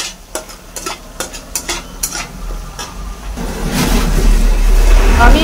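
Vegetables with Kashmiri chili powder and green chilies are stirred in a pan, giving several sharp scraping strokes, then a rising, loud bubbling sizzle as they start to simmer. A voice speaks briefly near the start.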